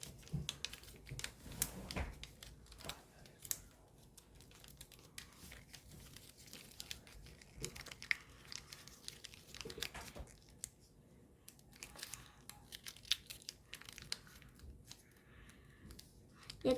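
Paper being folded into an origami ninja spinning top, with soft crinkling and creasing rustles that come in irregular bursts, close by and fairly quiet, and no voice.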